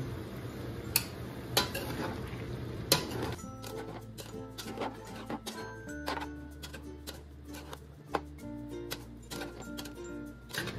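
A spoon clinks and scrapes in a pan while chopsuey vegetables with oyster sauce are stirred, with irregular light taps and clatter over a low steady background hum, quiet and without talk.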